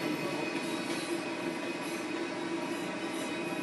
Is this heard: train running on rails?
yes